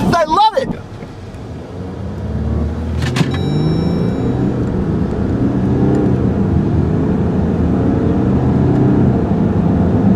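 A 2014 Jeep Grand Cherokee diesel with an 8-speed automatic accelerates in a steady, loud cabin drone of engine and road noise. A brief whine-like click is heard early, and people talk over the noise at the start.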